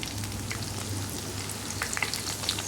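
Slit green chilies sizzle and crackle steadily in hot oil with spluttering mustard seeds for Chettinad fish curry, a dense continuous frying hiss with small pops, close and alone.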